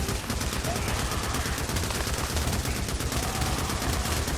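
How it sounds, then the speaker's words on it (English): Continuous rapid gunfire at a zombie horde in Days Gone, a dense, loud, unbroken rattle of shots throughout, with a voice talking over it. "Now this is when I'm going to hit them hard with the gunplay."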